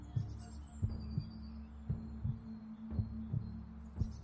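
A slow, steady heartbeat thuds through a guided meditation, each low double pulse repeating about every second over a soft sustained hum, with no voices.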